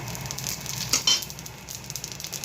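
Cumin seeds crackling in hot oil in a kadai give a close, steady sizzle, broken by a couple of brief metallic clinks of a utensil against the pan.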